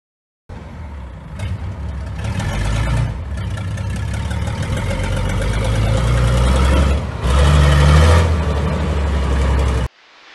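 The engine of an Alvis Stalwart military vehicle runs loud and close, a rough throbbing drone that swells with a couple of revs and then stops abruptly.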